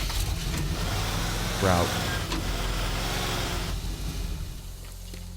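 A car engine in the video game Teardown hums and drones steadily, with one brief rising rev, while someone talks over it.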